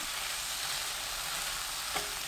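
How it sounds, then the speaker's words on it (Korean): Squid and zucchini stir-frying over high heat after soy sauce is added, giving a steady, close, loud sizzle with a faint scrape of stirring near the end. "진간장 넣고 센 불로 1분 더 볶습니다."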